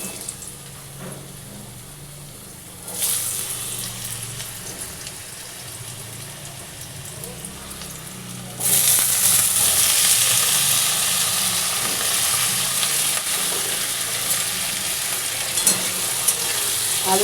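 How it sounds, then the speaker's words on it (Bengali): Potatoes dropped into hot oil for a potato-and-poppy-seed dish burst into loud, steady sizzling and crackling frying, close by, after a quieter stretch of hissing oil at the start. "তেলটা গরম হয়ে গেছে,"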